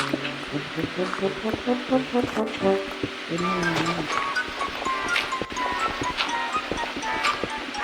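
Low, drawn-out moaning groans from Minecraft zombies, wavering in pitch over a noisy, rumbling background.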